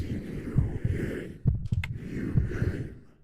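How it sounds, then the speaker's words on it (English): Low, soft throbbing heartbeat from a Halloween horror video game, thumping in repeated double pulses at a steady pace, moderately loud with a faint background hum. "You should hear a heartbeat noise"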